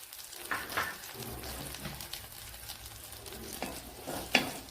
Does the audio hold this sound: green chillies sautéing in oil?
yes